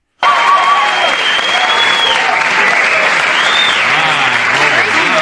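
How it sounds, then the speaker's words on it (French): Late-night talk show studio audience claps and cheers loudly and continuously after a sudden start, with whoops and voices rising over the dense applause. "mais la foule ne cesse d'applaudir"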